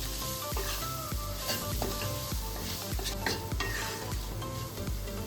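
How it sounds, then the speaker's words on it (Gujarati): Vegetables sautéing with biryani masala in a pan, a steady close sizzle of frying broken by regular scraping stirs of a spoon against the metal. "આ બધા મસાલાને આપણે 2 મિનિટ સબ્જી જોડે સાતરી લઈશું આ રીતે"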